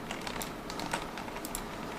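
Rapid clicking of keys on a computer keyboard during a game session, a dense, steady patter of close, crisp taps that continues throughout with no talk.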